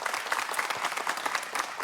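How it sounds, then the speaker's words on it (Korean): Brisk audience applause at a high school reading debate competition final, close and continuous with individual claps audible in a quick uneven rhythm. "큰 박수 보내주시기 바랍니다."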